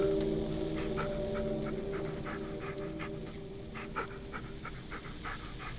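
Dog panting in the video game Blair Witch: quick, rhythmic breathy pants repeating close by over a low droning hum, with a small whimper-like tone near the middle.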